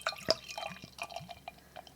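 Bell's Hopslam beer poured briskly into a glass, giving close, irregular splashing, dripping and gurgling with bright glassy plinks and one sharper splash early on. No one talks.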